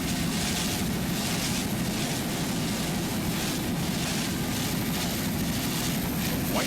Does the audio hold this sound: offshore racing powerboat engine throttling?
yes